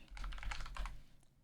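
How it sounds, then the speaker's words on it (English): A short, quiet burst of typing on a computer keyboard while entering a Twitter search: about a second of quick, close key taps, then silence. "typing Z-Chum peeper into into the fucking search bar in Twitter"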